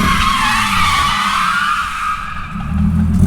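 Car spun out on pavement, loud continuous tire skid and squeal with engine noise underneath, sustained for a few seconds with no talking.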